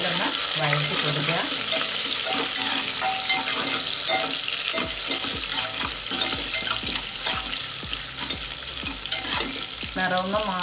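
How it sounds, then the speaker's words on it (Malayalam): Dried red chillies and curry leaves frying in oil, a loud continuous sizzle with a rhythmic scraping of the spoon against the pan close up, no talking. "ഒരു രണ്ട് തണ്ട് കരിവേപ്പില നല്ലപോലെ ഒന്ന് വഴറ്റി കൊടുക്കുക"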